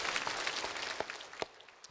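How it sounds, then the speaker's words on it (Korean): Church congregation applauding an elder after eighteen years of service: brief, moderately loud clapping from many hands with a few sharp individual claps standing out, lasting about two seconds. "우리 장로님께 여러분 박수 한번 해주시면 고맙겠습니다."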